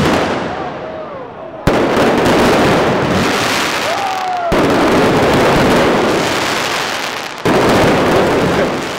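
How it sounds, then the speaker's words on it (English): A large fireworks display bursts over a crowded square in Barcelona, loud continuous crackling and booming explosions with whistling rockets rising, several sharp new blasts cutting in, all close and dense. "I walked into a giant fireworks display."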